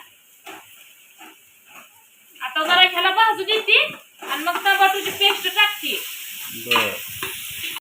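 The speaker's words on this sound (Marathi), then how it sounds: "आता टाकलं बघा तंबाटूची पेस्ट" Tomato paste hits roasted onion in a pot of mutton curry, giving a loud sizzle with stirring, while a voice talks over much of it.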